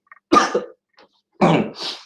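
Two short, sharp coughs about a second apart, close and fairly loud, in a quiet indoor room at a school reading programme.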